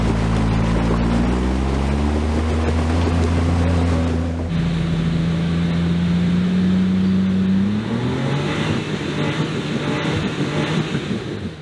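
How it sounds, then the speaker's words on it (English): Off-road vehicle engine labouring loudly up a steep rocky incline, a steady close drone whose pitch holds, drops, then climbs again as the engine revs, with no talk over it. "I can hear Will's engine revving"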